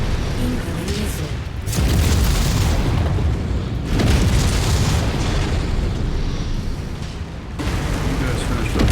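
Missile blasts in the Rasalhague DLC of a combat video game: loud, rumbling booms that swell and roll one after another across the scene, with low heavy rumble between the bursts.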